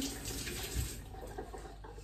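Hands being washed under a running kitchen tap during stew cooking, a steady close rush of water with small splashes and no talking.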